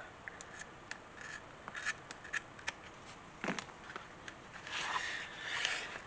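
Scissors snip the stitching thread on a leather holster, making faint, close little clicks and snips against a quiet background.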